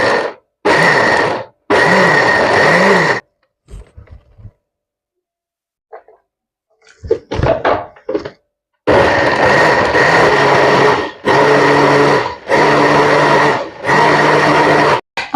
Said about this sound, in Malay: Ni saya blender.